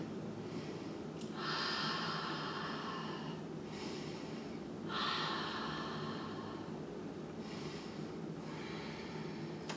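Slow, audible breaths during a yoga pose in a power vinyasa flow, three long airy inhales or exhales spaced a few seconds apart over a steady soft background hum.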